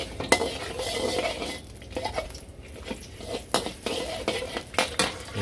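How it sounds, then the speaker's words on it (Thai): Garlic being stir-fried in a pan, with a spatula scraping and clanking against the metal at irregular intervals over a soft, steady sizzle, close and alone without talk. "แล้วก็ใส่กระเทียมนิดหน่อยนะครับ ผัดกระเทียมให้หอมนะครับ"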